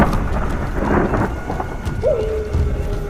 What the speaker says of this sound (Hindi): तेज आंधी की हवाओं में उनकी आंखें बहुत मुश्किल से खुल रही थी।